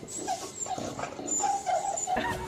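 A dog whimpers and makes snorting, pig-like squeals up close during an emotional reunion with its owner, a series of short, high, uneven cries.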